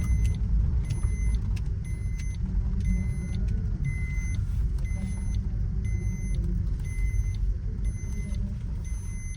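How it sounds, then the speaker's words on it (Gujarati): Road traffic near the Harsiddhi Mata temple at Amarthol rumbles steadily nearby with engine drone throughout, while a thin electronic beep repeats at regular intervals over the top. "ટ્રાફિક જોઈ શકો છો,"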